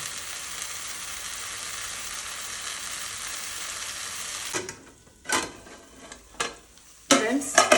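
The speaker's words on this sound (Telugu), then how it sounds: "టమాటా ఆనియన్స్ కలిపి వేగాయి కదా" Tomatoes and onions frying in a pan for a dried fish curry, with a steady loud sizzle for several seconds, then stirring scrapes and clinks of a utensil as the sizzle quiets.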